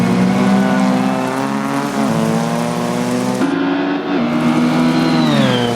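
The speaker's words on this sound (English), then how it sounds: "It's Squonk-built high-performance engine." High-performance racing engine with 12.5:1 compression, tuned pipes and three silencers, revving loudly and steadily close by at Silverstone, the pitch holding, dipping briefly and climbing again near the end.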